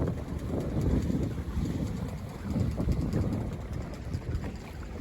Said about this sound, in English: it's like kind of a weird southeast wind, which is unusual out here